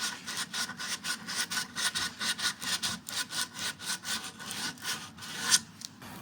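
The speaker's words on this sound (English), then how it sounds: "There is ultimately no escaping the grunt work of lots and lots of sanding." Rhythmic back-and-forth hand sanding of a wooden Edwardian-style coat rack, close and steady, about two strokes per second with no talking.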